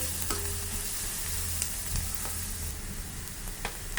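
Butter or oil sizzles steadily in a pan while cooking for egg fried rice, with a constant close hiss and a few light clicks of stirring.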